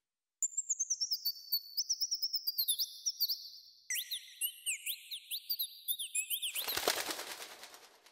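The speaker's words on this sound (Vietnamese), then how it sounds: "Nhưng chim hót véo von một hồi rồi bay đi mất." A bird sings a long, lively run of rapid, sweeping whistled chirps, loud and close, in a Korean folk tale setting, ending in a brief flutter of noise as it flies off.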